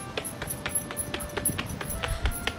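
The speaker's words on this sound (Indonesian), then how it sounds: "Ini apa? Kuda poni." A pony's hooves clip-clop in a quick, regular rhythm of sharp knocks, moderately close and steady throughout, with no talking over them.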